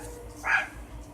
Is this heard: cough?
no